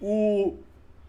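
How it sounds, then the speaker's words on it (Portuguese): A single cat gives one short, clear, tonal meow from outdoors, lasting about half a second before fading into quiet room background. "é lá fora, é alguma gata aqui"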